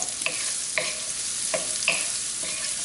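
Onions fry in a pan under a steady sizzle, with a few spaced scrapes of a spoon stirring them, close and moderately loud, with no voices.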